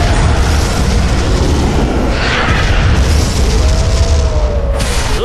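Loud booming explosions and gunfire from an animated battle roar continuously up close, with dense rumbling bursts layered over one another.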